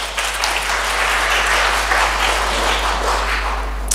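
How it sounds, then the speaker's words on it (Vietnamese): A church congregation at a Vietnamese Protestant service bursts into sustained, even applause praising God, the clapping steady and full throughout. "Hãy vỗ tay cảm tạ Đức Chúa Trời."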